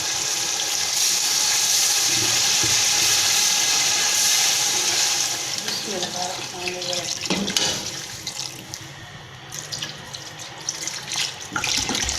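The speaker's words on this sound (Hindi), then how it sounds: "अब मैं इसमें पानी शामिल करूँगी।" Water gushes from a tap into a pot of browned chicken for homemade chicken biryani, a loud steady splashing pour that stops partway, followed by softer sizzling, clinks and quiet handling sounds.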